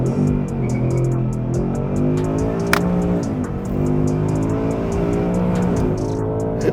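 A Ford Mustang GT V8 with over 450 hp launching 0 to 100 on a drag strip, its loud engine roaring and climbing through rising revs with brief dips at gear changes, heard close and continuous.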